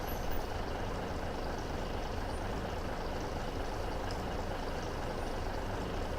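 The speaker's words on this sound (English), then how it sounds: "the truck's filling up now" A fuel truck filling up on a farm in Farming Simulator 17, a steady, dense engine drone with a broad hiss of filling running unbroken at an even level, with no talking.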